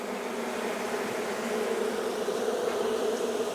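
A dense, continuous buzz of many honey bees close up on a hive frame during an inspection, steady and loud throughout with no voices.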